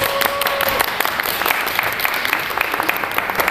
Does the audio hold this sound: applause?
yes